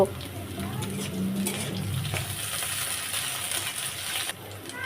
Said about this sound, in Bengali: সুটকিগুলো দিয়ে পেঁয়াজের সঙ্গে একটু সময় আমি ভেজে নিব